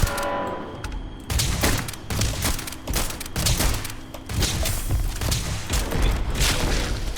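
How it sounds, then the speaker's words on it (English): Ship weapons open fire in a space battle in the video game Starfield: a loud, near fusillade of rapid booming shots and mechanical thuds rolls on after a brief quiet start, sustained and dense with no talking. "I am opening fire."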